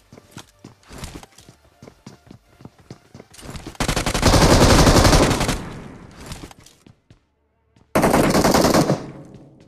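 Gunfire in a PUBG / BGMI battle, with scattered single shots and footsteps at first, then long loud bursts of automatic fire, a short silent gap, and another heavy burst.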